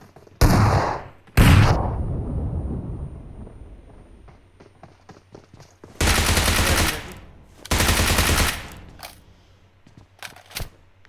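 Video game gunfire in short, loud bursts of automatic fire, a few separate volleys spaced seconds apart, with quieter single shots and faint clatter in between.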